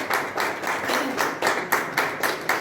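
A congregation claps at a church baptism, with a steady rhythm of loud, close hand claps running through the whole stretch without pause.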